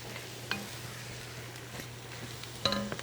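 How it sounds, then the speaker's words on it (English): Cumin seeds toast with tomato paste in a pot, giving a quiet steady sizzle broken by a couple of sharp spoon clinks and stirring scrapes. "Cumin seed. I'm giving it a chance to kind of like toast."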